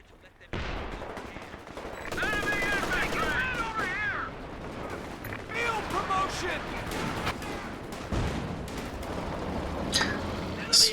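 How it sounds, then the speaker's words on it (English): Artillery barrage in a real-time strategy match, heavy booms and crackling explosions rolling through in bursts while a caster talks excitedly over the din. "And we have it, artillery barrage"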